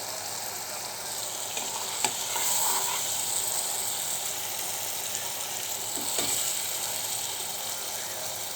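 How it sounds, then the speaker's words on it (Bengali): Spice paste sautéing in a pan for a small fish dish, a continuous hissing sizzle with a couple of sharp clinks of a stirring spoon. "মশলাটা আর একটু কষুক"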